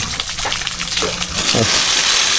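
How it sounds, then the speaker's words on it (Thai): A forest stream flows loud and close, a continuous rushing gush of water with small splashy surges throughout. "โอ้มีน้ำไหลนะครับ"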